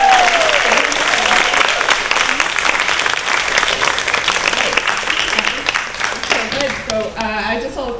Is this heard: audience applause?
yes